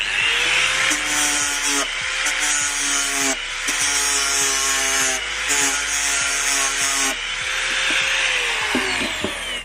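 An angle grinder fitted with a flexible sanding disc whines at high speed against wood, a loud, steady abrasive rasp that dips and rises in pitch with repeated passes and periodic rhythmic knocks underneath.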